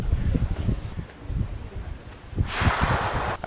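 Wind gusts buffet a steep hiking trail in Sri Lanka in low, uneven rumbles that swell into a louder rushing gust near the end.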